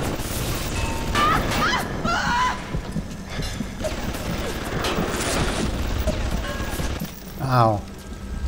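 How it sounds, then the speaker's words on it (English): A BioShock security turret fires repeated bursts, with scattered rattling shots, mechanical clatter and impacts of moderate loudness. Brief voice sounds come through in between. "The turret is killing me."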